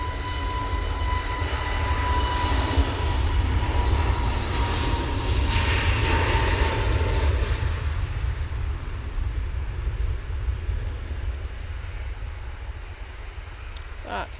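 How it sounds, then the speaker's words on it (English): A Jet2 Airbus A321neo spooling up for takeoff at Manchester Airport, bound for Faro: a steady, loud, low engine rumble with a rising whine, staying constant then easing slightly, under occasional talk. "Jet2 321 Neo now spooling up."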